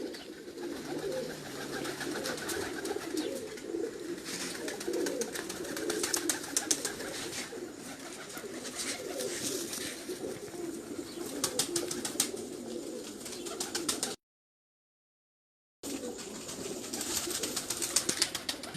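Flock of pigeons cooing steadily in a loft, dense overlapping low coos throughout with occasional wing rustles and a brief dropout near the end.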